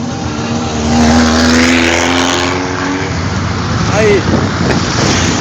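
Cars move along the road close by, a loud, continuous engine and traffic roar that swells as vehicles pass, with voices audible over the noise.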